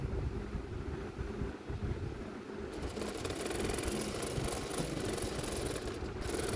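A sewing machine runs steadily, stitching along a folded seam of a frock, a continuous dense mechanical whir that grows brighter and busier partway through, with no talking.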